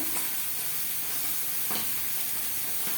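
Fish frying steadily in hot oil in a home kitchen, a constant broadband sizzle at moderate level with a few faint clicks, no talk.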